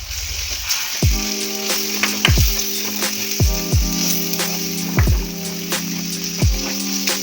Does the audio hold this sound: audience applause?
no